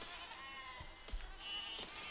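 Sheep in the video game Besiege bleat faintly over a constant hum of game sound, with a couple of thumps in the middle.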